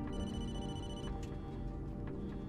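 A phone rings inside the Blair Witch video game, a steady electronic tone with repeating harmonic bands that continues loud and unbroken through the short stretch, with game ambience underneath and no talking.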